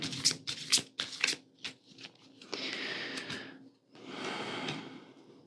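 Tarot cards are handled at close range: several sharp slaps as cards are drawn and laid down, followed by two longer riffling shuffles, with no talk.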